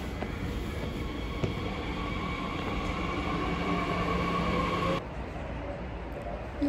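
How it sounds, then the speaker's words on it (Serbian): A train rumbles past close by in a steady, loud roar that holds for about five seconds and then cuts off abruptly, leaving quieter background noise. "Voz."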